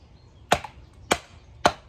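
Three sharp, evenly spaced chops of a Ka-Bar knife blade striking wood, crisp and close, with quiet pauses between each hit.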